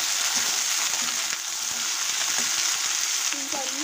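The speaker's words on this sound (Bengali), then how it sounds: "সিমগুলো একটু ফ্রাই করে নেবো প্রথমে।" Broad beans (sem) fry in a pan with a little salt, giving a steady, close sizzle and hiss throughout, with occasional faint stirring sounds and no talking.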